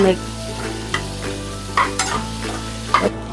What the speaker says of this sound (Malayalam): ഇട്ട് തേങ്ങയും കൂടി ഒന്ന് നല്ലവണ്ണം ഒന്ന് വഴട്ടുക